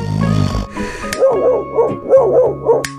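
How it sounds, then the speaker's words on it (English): A dog barks in a quick series of four or five sharp, close yips and bow-wows after a brief whimpering start, loud and without talk. "D is for dog."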